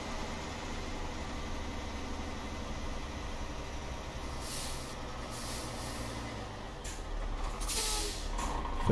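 Air brake hiss from a Mercedes-Benz Axor 26-44 truck hitched to a Librelato trailer, heard as bursts of loud broadband hissing over a steady idling diesel rumble, with a final sharp release near the end.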